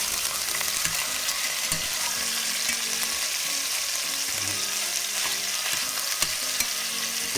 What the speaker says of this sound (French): on fait juste colorer de chaque côté pour saisir la viande